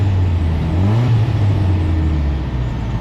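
Volkswagen Beetle engine running loud and close as the car drives, with pitch rising and falling through gear changes over a steady low rumble.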